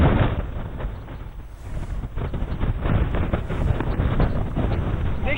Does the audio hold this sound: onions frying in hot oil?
no